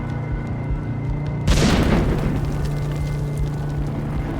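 A grenade detonates in a first-person shooter video game: a sudden loud boom followed by a rumbling, slowly fading blast tail over steady game background ambience.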